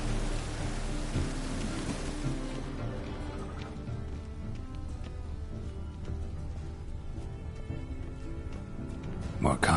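Steady rain hisses over a low rumbling background in the video game The Witcher 3: Wild Hunt on PS4, with rumbles of distant thunder and a voice talking over the downpour.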